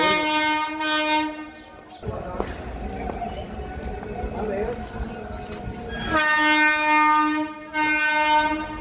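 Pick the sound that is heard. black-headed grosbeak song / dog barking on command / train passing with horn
train passing with horn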